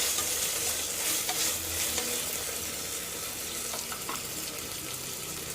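Freshly pounded ginger garlic paste sizzles steadily in hot oil, a loud, continuous hiss with occasional stirring scrapes.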